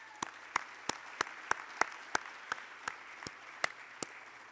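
Applause for Scott at an organization's chairman speech event, sounding as sparse, distinct hand claps at a fairly regular rhythm, sharp and moderately close against a quiet room.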